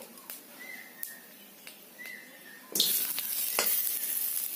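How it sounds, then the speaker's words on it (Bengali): Oil sizzles with scattered clinks, then erupts into a louder, steady hiss as mango pieces for pickle hit the pan after five-spice seeds, with faint bird chirps in the background. "এবার আমগুলোকে আমি একটু ভাজা ভাজা করে নেব"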